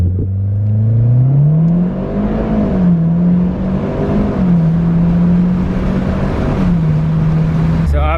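A Mitsubishi Evo with a Ralliart GFB blow-off valve set at 50-50 recirculation pulls hard through a gear, the engine note rising and holding steady before a brief shift dip, loud and close, ending with a quick valve release.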